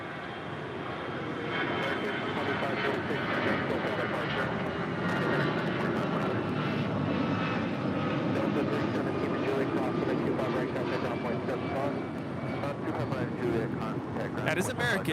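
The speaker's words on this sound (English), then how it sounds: "That is American 2546 departing to Mexico City on an A319." An American Airlines A319 departing Los Angeles LAX for Mexico City gives a continuous, moderately distant jet engine roar at an even level throughout, with faint voices in the background.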